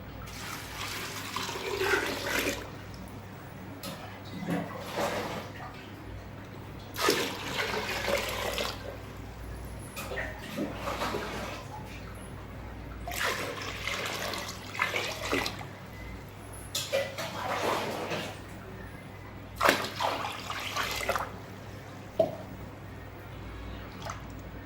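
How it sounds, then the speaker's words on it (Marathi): Water poured into wheat grain in a container at home, heard as several separate bursts of splashing and trickling over steady low background hum, moderately close, with no talk. "आता आपल्याला गव्हामध्ये पाणी टाकायचं आहे."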